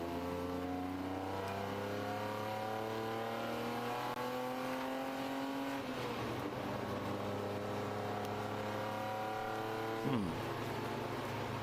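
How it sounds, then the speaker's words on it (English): Race car engine in a ChampCar endurance race at the Carolina Grand Prix, holding a steady low, rough drone that sounds like a misfire, with a brief revving sweep near the end; loud and continuous, no talk. "The revs sound really low. It almost sounds like it's got a misfire."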